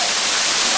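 Rainforest waterfall rushing, a steady dense roar of falling water heard up close, loud and unbroken with no voices.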